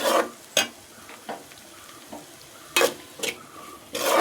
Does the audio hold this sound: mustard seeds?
yes